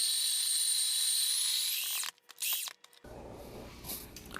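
A Breville Barista Pro espresso machine grinds coffee at grind size 4 with the inner burr at 4, a steady high-pitched burr whir lasting about two seconds before stopping, followed by brief knocks and handling noise.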